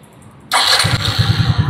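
An AFAZ Kencana Sport 115 motorcycle engine cranks and catches, then settles into a steady, close, pulsing idle with a throaty low rhythm.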